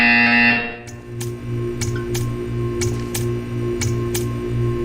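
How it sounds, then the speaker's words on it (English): Repeated sharp electronic buzzer bursts from the Portal 2 game sound at a regular rhythm over a steady low hum, following a brief louder tone at the start. "You will hear a buzzer."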